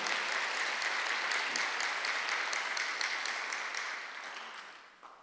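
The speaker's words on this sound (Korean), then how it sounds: "박수로 하나 더 주세요." A church congregation applauds during a Sunday worship service, a full, steady round of clapping that slowly fades away toward the end.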